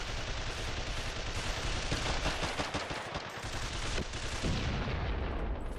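Rockets and gunfire in the block-building war game Guns, Blocks and Steel, a continuous loud barrage of booming launches and crackling shots with no pauses.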